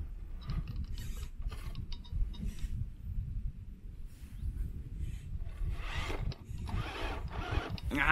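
Tamiya G6-01 radio-controlled car with a 55T motor churning and digging into loose sand, a steady grinding, rubbing whir of drivetrain and spinning wheels, close and continuous with a brighter scrabbling burst near the end.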